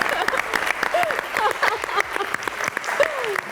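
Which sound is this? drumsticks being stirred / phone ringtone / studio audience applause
studio audience applause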